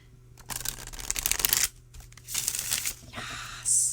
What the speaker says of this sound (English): I could keep shuffling forever because it's a joy.